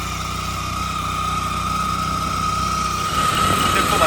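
A small land-clearing machine, a Bulland Kisan model, runs with a steady, loud engine drone and a sustained whine, continuing strongly and close by without a break.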